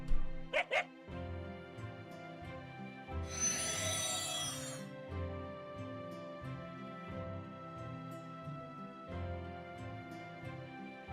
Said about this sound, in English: A lone white dog runs throughout Shinjuku in chaos.